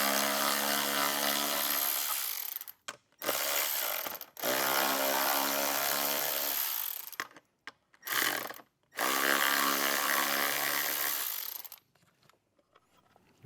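A power tool whirs in several long bursts while removing screws from a speaker module on a 2024+ Jeep Wrangler, with short pauses and clicks between runs, close and loud.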